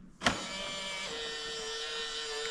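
Vanvent ventilation fans switch on with a sharp click, then settle into a steady, even whir with a faint whine as the dampers close, close and continuous with no talking.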